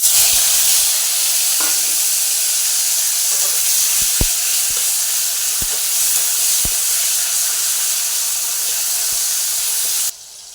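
Chopped tomatoes fry in a hot wok with black cumin seeds, a loud continuous sizzle and hiss with a few sharp ticks of a spatula, cutting off abruptly near the end.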